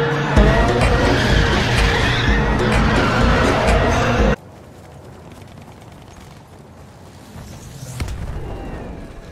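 A car in Battlefield 1 drifts with tyres skidding, a loud dense rush of engine and squealing rubber for several seconds that cuts off abruptly, followed by quieter game ambience and a brief later thump, with voices talking over it.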